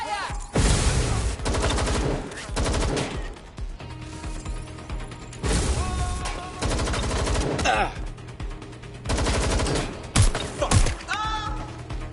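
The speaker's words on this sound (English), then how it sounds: "Taking fire!" Bursts of automatic gunfire in the Watch Dogs video game come in dense, loud volleys separated by short pauses, with sustained rattling fire throughout.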